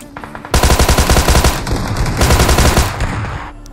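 Gunfire in the mobile battle royale game BGMI (PUBG Mobile), rapid automatic bursts cracking out loud and close in a fast steady rhythm for about three seconds, with a brief pause mid-stream.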